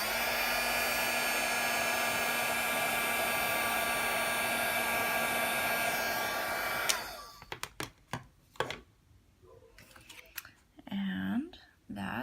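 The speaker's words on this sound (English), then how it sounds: "we'll do the embossing heat gun" An embossing heat gun blows with a steady, loud whirring hiss for about seven seconds, then cuts off, leaving scattered clicks, handling noises and quiet whispery sounds.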